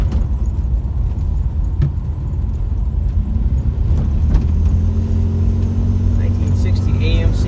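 A 1960 AMC Rambler fitted with a carbureted 3-liter 2JZ engine and distributor cruises along, its steady mid-range engine rumble running throughout with a slight rise in revs near the end, while people talk over it inside the car.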